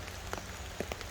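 Heavy rain patters onto a tarp tent in the woods during a wild camping night, a steady soft wash of drops with a few louder individual impacts standing out close by.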